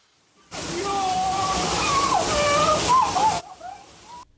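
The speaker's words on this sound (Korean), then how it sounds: "동파된 수도에서 물이 폭포수처럼 쏟아지자 비명을 지릅니다." A burst, frozen water pipe during a severe Texas cold snap pours out a loud, steady gush of water, like a waterfall. Shrill screams of people ring over it until the flow cuts off abruptly near the end.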